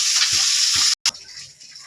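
Fish fries in a pan on a home stove with a bright, continuous sizzle. Two soft low thumps come from stirring, and there is a brief cut-off near the middle before the frying hiss resumes, slightly quieter.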